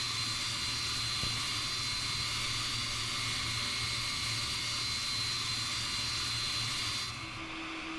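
Steady roar of MD-11 jet airliner engines idling in Microsoft Flight Simulator, a broad constant whine and rumble that drops slightly near the end.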